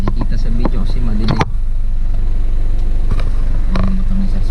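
A truck engine rumbles steadily up close throughout, heard from riding aboard while moving house, with brief clunks and people talking over the drone.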